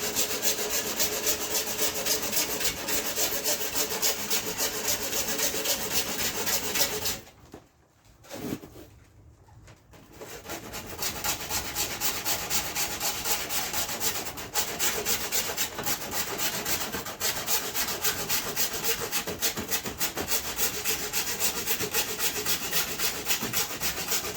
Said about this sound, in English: Cutting plastic.